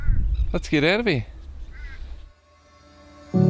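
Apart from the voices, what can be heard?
birds chirping at a dam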